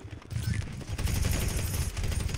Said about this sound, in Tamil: ஷாட் கன் இது ஷாட் கன்